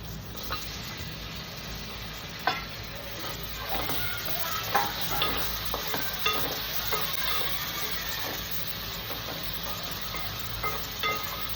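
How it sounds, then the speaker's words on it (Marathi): Tomatoes frying in a pan with onions already browned, a steady moderate sizzle with irregular spatula scrapes and light taps throughout, fairly close and without speech. "टोमॅटो आपल्याला मऊसर होईपर्यंत भाजायचा आहे"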